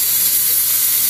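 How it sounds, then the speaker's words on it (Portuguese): Garlic sizzles in hot oil in a warm pan, a steady, dense hiss that runs close and even through the whole moment, with no voices over it. "Vou colocar aqui um pouco de alho."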